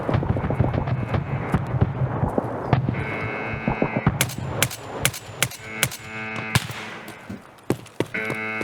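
Gunfire from a mounted machine gun in the video game Escape from Tarkov, a string of sharp cracking shots in uneven bursts over muffled background game noise, moderately close and without talking.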